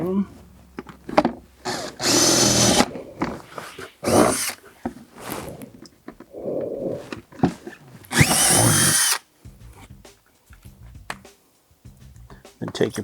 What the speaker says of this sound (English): When you're drilling these holes out, you don't really need to worry about anything.